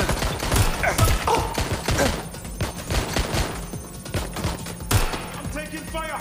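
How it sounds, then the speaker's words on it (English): Gunfire in the action game Watch Dogs: Legion, irregular bursts of sharp shots and heavy thumps, close and fairly loud, with voices speaking during the firefight. "I'm taking fire."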